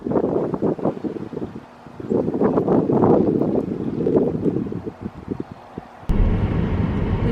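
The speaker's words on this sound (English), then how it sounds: "It's super windy" Strong wind blows outdoors, roaring and buffeting the microphone in uneven gusts, with a brief lull and then a sudden louder blast near the end.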